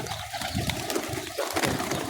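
A pet bird at home calls with soft, repeated cooing notes close by, running continuously for about two seconds over a light background hiss.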